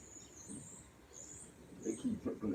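Small birds chirp in short, repeated high calls at a moderate distance, with low, muffled voices talking underneath toward the end.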